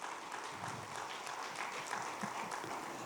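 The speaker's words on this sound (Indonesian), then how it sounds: "Mari kita beri aplaus yang luar biasa." Audience applause fills an opening ceremony, a dense, steady wash of clapping from a crowd that holds at an even level throughout without any voices rising above it.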